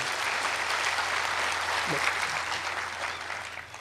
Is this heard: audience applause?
yes